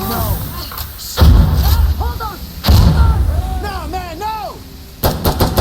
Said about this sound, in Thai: เฮ้ยเฮ้ยระเบิด